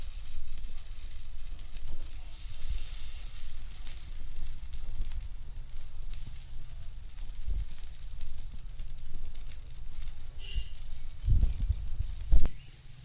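Pearl millet kuzhi paniyaram sizzling and being flipped in a paniyaram pan, a continuous close frying hiss and crackle with a few louder clinks of the turning tool near the end.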